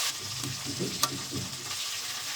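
Chicken crackles and sizzles steadily in hot oil, a soft continuous frying hiss with occasional pops and a brief clink.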